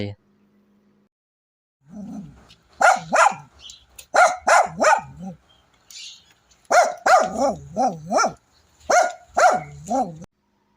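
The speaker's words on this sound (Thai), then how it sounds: "น้องฟุกของผมได้ชอบเห่ามากนะฮะ เสียงดังทีเดียว" A Shih Tzu poodle mix dog barks loudly and close by in several quick bursts of sharp yaps separated by short pauses.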